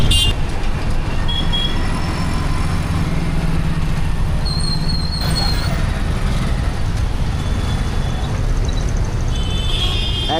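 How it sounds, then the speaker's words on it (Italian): Car horn toots ring out in dense Indian street traffic, short honks over a steady roar of road noise and passing vehicles. "Infatti il nostro autista continua a suonare il clacson appunto per far sentire la nostra presenza anche le macchine più grosse."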